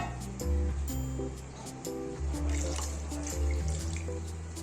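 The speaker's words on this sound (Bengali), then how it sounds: "এই কাপ মেপে 2 কাপ দিয়ে দেবো গরম জল" Hot water poured into a pot while cooking egg pulao, a continuous close splashing stream with gurgling tones and small drips over a low kitchen rumble, no speech.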